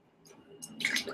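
A single drop of essential oil falls into a water bottle of lemon water, a faint, brief liquid plink and splash at the end of a quiet moment.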